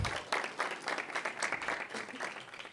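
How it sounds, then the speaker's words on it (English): A room of spectators applauds a student pitch team at an Enactus demo event, a fairly faint but continuous wash of clapping that thins slightly toward the end. "Round of applause for Wealth from Waste"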